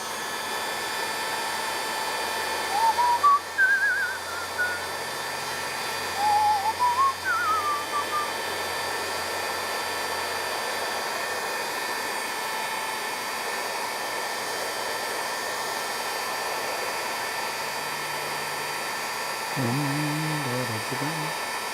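A heat gun blows hot air in a steady, continuous whooshing hiss throughout, with a few faint whistling tones and a brief low sound near the end.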